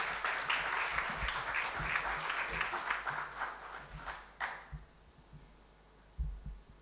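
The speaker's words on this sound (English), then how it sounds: "A hand of applause." Audience applause at a US-Tanzania tech challenge event welcoming the embassy's deputy chief of mission to the stage, fairly dense clapping that thins out and fades into scattered claps and room hum.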